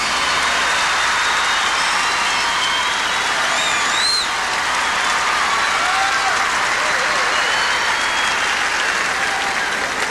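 A gymnastics arena crowd at men's event finals applauds a routine in sustained, dense clapping with murmurs and scattered whistles, while a commentator's voice runs faintly beneath.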